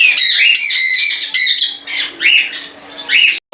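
Pet birds at a bird farm give loud, busy squawks and chirps, several calls overlapping in quick succession close by with only brief pauses.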